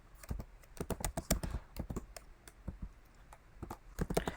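Quick, irregular bursts of clicking keystrokes on a computer keyboard while writing a loop in code, close and fairly quiet, with short pauses between flurries and no speech.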